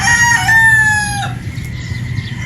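Broodstag gamefowl rooster crowing once at close range, a loud drawn-out call with strong harmonics that ends abruptly, then low farmyard background noise.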